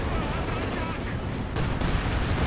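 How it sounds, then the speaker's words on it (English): A landmine goes off in the Company of Heroes 2 real-time strategy game. It is a dense, rumbling explosion blast that fills the whole clip with loud, continuous low-end roar, layered battlefield noise and a commentator's voice underneath. "Detonates a landmine there"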